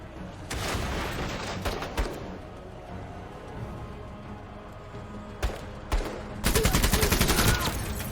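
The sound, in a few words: chain gun firing in the video game MENACE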